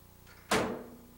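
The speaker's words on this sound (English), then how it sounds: "The door is now open" A microwave oven door shuts with a single sharp thunk and a short fading resonance against a faint background hum.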